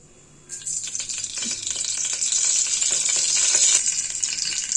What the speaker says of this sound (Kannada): ಎಣ್ಣೆ ಸ್ವಲ್ಪ ಬಿಸಿ ಆದಮೇಲೆ ಜೀರಿಗೆ ಸಾಸಿವೆ ಹಾಕ್ಕೊಳತ್ತೀನಿ